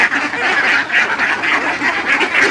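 A flock of farm ducks quacks continuously at feeding time on a clean floor, a dense, loud overlapping chorus of nasal calls close by with no speech.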